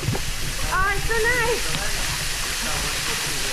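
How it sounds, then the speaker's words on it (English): A large waterfall at the lower falls near Suva, Fiji, gives a steady, close, full-bodied rushing roar, with voices speaking briefly over it early on. "So this is the lower falls, and this is a big waterfall here."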